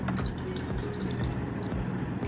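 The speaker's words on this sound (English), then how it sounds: "You need to take a glass, a medium sized glass," Water being poured into a medium-sized glass, a steady close liquid splash and trickle running continuously for a couple of seconds with no talk over it.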